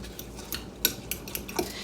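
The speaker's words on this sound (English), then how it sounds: "Give that a quick stir." A spoon stirs an oatmeal bake mixture in a bowl, giving a few light clinks and scrapes close up, short and without talk.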